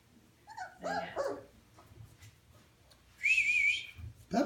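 Puppies yip and bark in short high bursts near the start, and a whistle sounds midway. The sounds are close but fairly quiet, with gaps of near silence between them.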